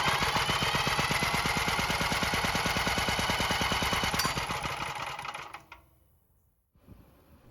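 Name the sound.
generator engine cranking, failing to start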